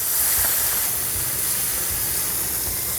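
White wine vinegar hits a hot pan with pig cheek and sage, giving a loud, steady, broad sizzling hiss that fills the whole moment without a break.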